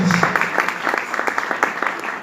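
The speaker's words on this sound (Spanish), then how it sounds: "Dale más fuerte ese aplauso al Señor." Congregation clapping during a church service, a moderately dense burst with individual claps standing out, while a voice speaks over it.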